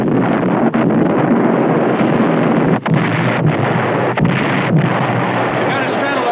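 Naval guns fire in a 1953 sea battle film, heavy booming shots landing at intervals over a constant roar of wind and sea, with a voice speaking between the blasts.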